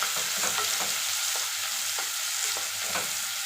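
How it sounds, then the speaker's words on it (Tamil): Onions sautéing in hot oil with mustard seeds for a dry fish thokku: a steady close sizzle with scraping stirs roughly every half second, no voices. "நல்லா இந்த மாதிரி வதக்கி விட்டுட்டே இருங்க"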